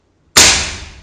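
A PCP air rifle fires once from a small air cylinder, a single sharp, loud crack with a brief decaying tail and no other sound.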